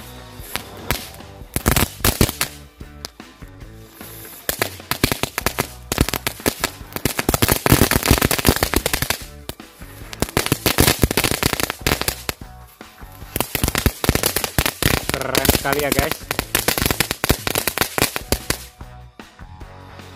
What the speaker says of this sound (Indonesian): lanjut kita nyalakan satu pak mercon telur dino pretek